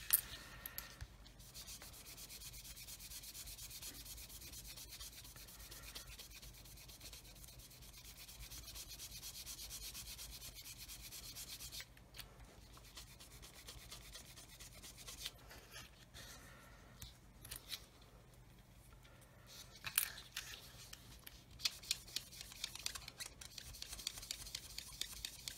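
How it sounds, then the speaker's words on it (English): Polishing a 1/32 Airfix Humber scale model with the polishing side of a sanding stick: a steady, close, soft rubbing and scuffing that runs throughout, alone, with brief pauses and a few sharper strokes toward the end. "So now we'll have a go with the polishing side and see how that gets,"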